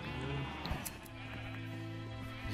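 Sheep bleating in Minecraft, several overlapping nasal bleats from the blocky in-game flock, steady and fairly loud over a dense game-audio bed with no talk.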